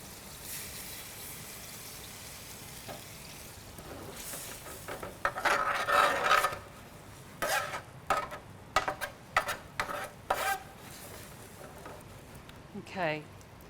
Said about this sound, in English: I'm taking some cider vinegar, and I'm just going to deglaze the pan just with a little bit of that.